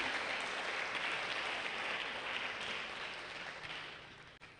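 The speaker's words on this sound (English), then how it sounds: "Please clap for him." An audience at a green chemistry and sustainability workshop applauds steadily, a dense even wash of clapping that holds for several seconds before fading out at the end.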